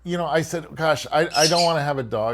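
A green-cheeked conure squawks and chirps in the background, faint and intermittent beneath a person talking continuously in a small apartment.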